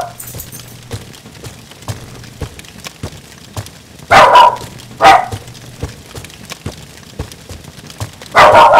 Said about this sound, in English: my dog is fucking barking